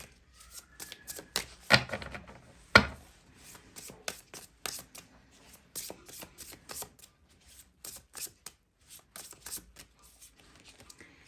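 Tarot cards are shuffled and drawn by hand, a dry rustle made of quick papery slaps and flicks, with a couple of louder snaps early on and brief pauses between bursts.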